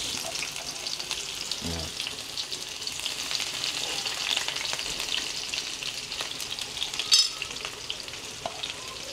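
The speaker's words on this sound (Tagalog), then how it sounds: "Magigisa na po ako ng bawang at sibuyas." Garlic and onion sautéing in a pan for a Kapampangan chicken pineapple sauce dish, a continuous close sizzle with occasional stirring clinks and a brief louder scrape near the end; a voice speaks briefly.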